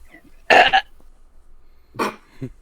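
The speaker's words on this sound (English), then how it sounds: "Just a loud burp." A loud, rough burp bursts out, followed a second later by a second shorter burp, with quiet between them.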